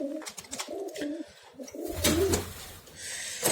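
Pigeons coo close by in a short run of soft, rolling calls, followed by rustling and a brief flutter.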